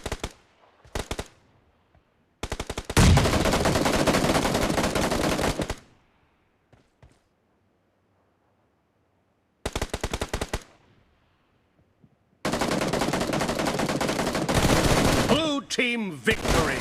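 Automatic gunfire in BGMI after an update, loud sustained bursts in two long stretches with short single volleys between and quiet gaps, ending in a ringing, sweeping tail.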